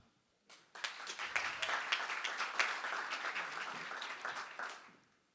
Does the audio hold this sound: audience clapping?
yes